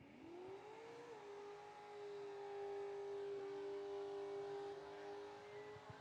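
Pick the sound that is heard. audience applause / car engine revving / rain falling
car engine revving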